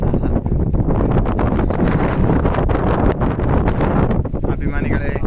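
Strong wind buffets outdoors among trees, a loud continuous roar and rush with rustling, battering close to the listener.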